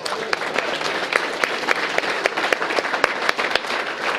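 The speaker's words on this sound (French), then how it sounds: "Je pense qu'on peut l'applaudir." A crowd applauds warmly, many hands clapping in a dense, steady patter that holds for several seconds.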